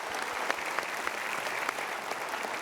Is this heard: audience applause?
yes